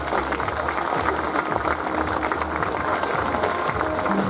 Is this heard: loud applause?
yes